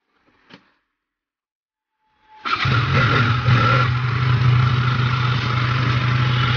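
A motorbike engine starts up after near silence with a brief click, then runs steadily and loudly with a low throbbing drone as the rider sets off, sounding close to the mic.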